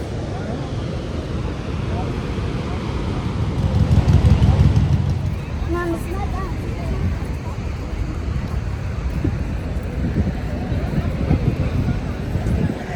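Niagara Falls roars as it is approached, a broad, rushing wash of water mixed with gusty wind buffeting the microphone, swelling louder midway, with brief voices in the background.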